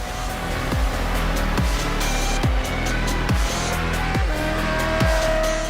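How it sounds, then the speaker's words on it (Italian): A 2024 Honda CBR600RR four-cylinder engine screams on a race track, climbing to a shrill, high-revving wail again and again, with quick drops at each gear change in a steady, loud rhythm. "chi ama sentire l'urlo del 4 cilindri Screamer"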